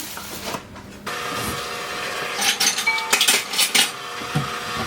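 A spoon clinks and scrapes against a bowl while the cinnamon swirl for coffee cake cookies, made with light brown sugar, gets stirred together, in uneven bursts of close clatter over a low kitchen background.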